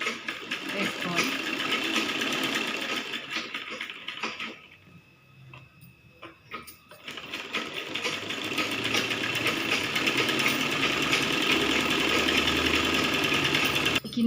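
A sewing machine stitches fabric for a small child's saree, a close, fast mechanical whirring that runs steadily, stops briefly for a few seconds in the middle, then resumes at full speed.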